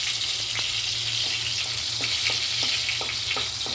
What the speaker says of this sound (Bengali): গরম মশলাটা ভাজা করে নেব